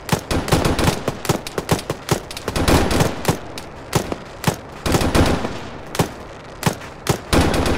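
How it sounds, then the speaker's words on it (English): Rapid bursts of gunfire fired at a BRDM armored vehicle in the military video game Arma 3, a dense string of loud, sharp cracks in quick clusters with brief gaps, continuing steadily throughout. "Rapid fire on the BRDM."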